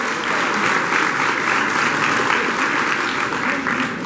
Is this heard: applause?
yes